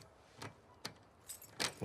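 In The Last of Us 2, a bunch of keys jingles in four or five quick metallic rattles that grow denser toward the end, close up against a quiet background with no voices.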